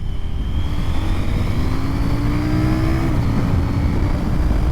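A CF Moto NK800 Advanced motorcycle runs loud and close, its engine droning steadily with rising and falling pitch as the rider accelerates and shifts.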